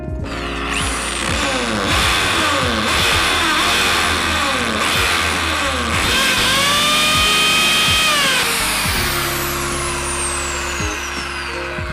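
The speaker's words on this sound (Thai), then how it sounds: "ซึ่งลักษณะการเจาะปูนจะใช้ วิธีการหมุนและก็กระแทกนะครับ" A hammer drill bores into a concrete wall to mount a wall fan, its motor whining loudly with pitch rising and falling and a rapid percussive rattle as it rotates and hammers, running almost continuously close by.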